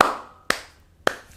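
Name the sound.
people clapping hands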